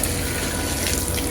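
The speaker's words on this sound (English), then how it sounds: "So we're just gonna pour some water in there." Water poured into a drain on a timber frame extension build site, a steady broadband rush of running water filling the whole short stretch, close and fairly loud with no talk.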